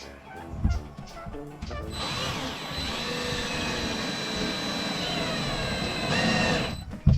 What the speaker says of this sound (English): I'm using an electric screwdriver to fasten the panels with